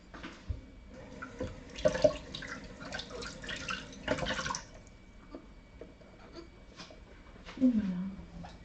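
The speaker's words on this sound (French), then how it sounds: "Je vais juste rincer celle-ci." A small glass verrine rinsed under running tap water in a kitchen, with intermittent splashing, dripping and clinks of glass, close by and fairly quiet.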